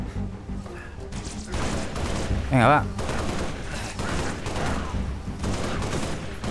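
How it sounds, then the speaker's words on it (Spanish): Gunfire in the video game Halo Reach: bursts of shots and thuds keep crackling throughout, with a voice speaking over the firefight. "Tenemos que liarnos a tiros aquí."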